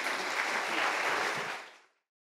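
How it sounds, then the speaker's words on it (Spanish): Church congregation applauding together, a dense steady wash of many hands clapping that fades out to silence after about two seconds. "Un aplauso al Señor."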